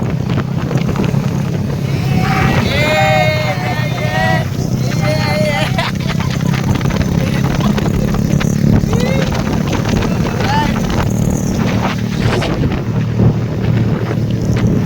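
Motorcycles ridden along a wide rural road in Sibonga, with steady engine drone mixed with heavy wind buffeting on the microphone, while riders talk over the noise throughout.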